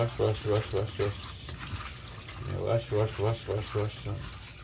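Raw crab is washed under running tap water in a container for a Caribbean curry, with water splashing and gurgling in a steady pulsing rhythm, briefly pausing midway before resuming.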